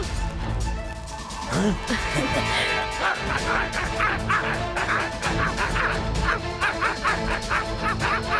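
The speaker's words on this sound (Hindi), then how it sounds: "अरे ये डॉग्स के जैसे क्यों भौंक रहे हैं?" Several cartoon dogs bark and yip in rapid, overlapping bursts over a busy, noisy background, the barking steady and fairly close throughout.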